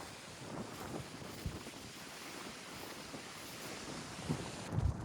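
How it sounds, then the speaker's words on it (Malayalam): Strong wind at a mountain viewpoint along the Achankovil forest road buffets the microphone in a steady low roar, with harder gusts thumping near the start and again toward the end, and no talking. "എന്നെ കൂടെ പറത്തിക്കൊണ്ട് പോകുന്ന രീതിയിലാണ് ഇവിടെ കാറ്റ് വീശുന്നത്"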